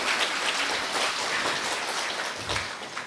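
An audience at a spiritual class claps steadily, a dense continuous patter of many hands at fairly even loudness.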